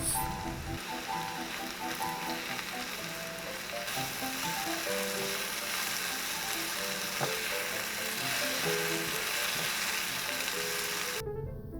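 Mushrooms frying in a pan, a steady dense sizzle and crackle running throughout at an even level with no talking.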